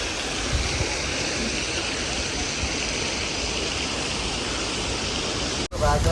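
Chitrakoot waterfall roars as a loud, continuous broadband rush of falling water, steady throughout and heard up close. It cuts out abruptly just before the end.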